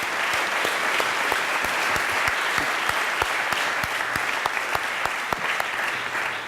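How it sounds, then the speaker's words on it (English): Sustained applause from a crowd at an annual recognition event, loud and continuous, with a few sharper claps standing out. "How about giving one more round of applause and show them some love for those young people"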